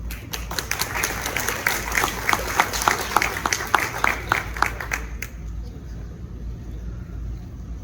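An audience at the launch event of the Crecer TV platform gives a speaker a brisk, steady round of applause, with rhythmic clapping that fills about five seconds and then drops away to quiet room noise.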